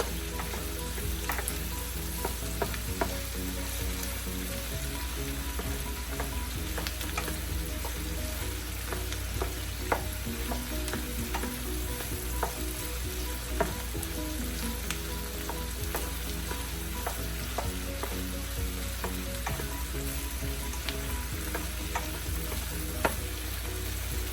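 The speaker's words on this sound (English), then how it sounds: "I'm going to sweat the onions down a little bit more" Onions sweat down in a pan beside golden-browning potatoes. The sizzle runs steady and close for the whole stretch, and frequent scrapes and clicks mark constant stirring.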